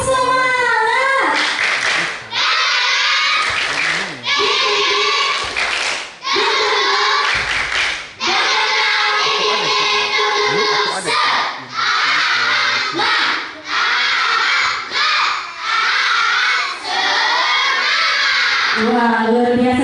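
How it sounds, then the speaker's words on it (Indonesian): Schoolchildren at an elementary school event perform a rhythmic spirit clap, bursts of patterned hand claps mixed with loud group shouting and cheering, dense and close for the whole stretch. "sebelum tampil kita tepuk semangat dulu yuk. Tepuk semangat."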